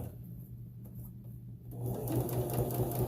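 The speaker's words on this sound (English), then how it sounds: "You go to the edge and sew it down." A sewing machine stitches down the edge of a fabric face mask, its low motor hum and rapid needle chatter building louder in the second half, close by with no speech.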